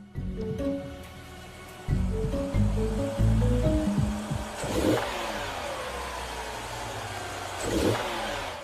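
A car engine revs twice during acceleration, with two rising surges set against a steady background rumble and some earlier tonal hum. No voices are heard.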